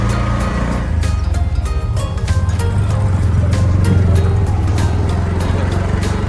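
Ride inside a moving auto rickshaw heading toward a temple, with a steady low engine drone and road rumble throughout, plus rattling and passing traffic noise; faint voices are mixed in.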